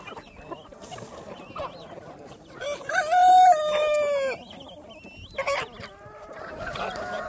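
Chickens cluck and a rooster crows on a homestead, with a clear crow in the middle and shorter squawks and honk-like calls around it, close by over faint background noise.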